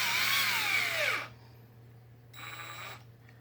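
A power drill whines at high speed then winds down as it stops, followed by a short second burst at lower intensity, used on a Traxxas X-Maxx RC truck's final drive gear screws.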